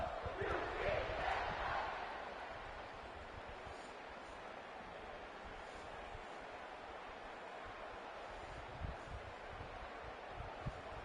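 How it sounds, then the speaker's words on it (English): Stadium crowd at a UCF Knights college football game in CFB26 gameplay: a steady, distant roar of many voices swells briefly at the start and then settles into a sustained, faint wash of cheering. "And this crowd is ready for a..."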